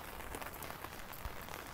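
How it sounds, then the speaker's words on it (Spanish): Steady rain falls on a rainy day, a constant soft hiss of drops spread across the whole clip with no other clear sounds. "Está lloviendo y aparentemente va a llover todo el día."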